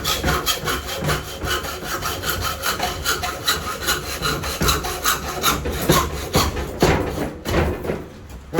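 A hand hacksaw cuts through copper or brass in steady, rapid back-and-forth strokes, each a close, raspy scrape with a regular rhythm, heard alone.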